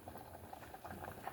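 Amaranth and sorrel leaf pulusu simmering in a pot, seasoned with rock salt, chili powder and turmeric, giving a soft, quiet bubbling patter that pops irregularly throughout.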